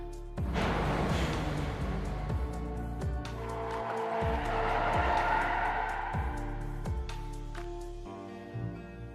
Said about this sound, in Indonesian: ada sebuah truk yang sedang melaju kencang ke arahnya